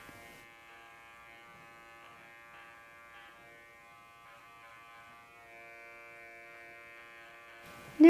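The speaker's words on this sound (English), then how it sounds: "using the edge of my clipper, I'm going to come in this way, up, this way, up." Electric dog grooming clippers run over a poodle's tail, a thin steady motor buzz heard quietly and close, with slight shifts in pitch as the blade moves through the coat, and a sharp knock at the very end.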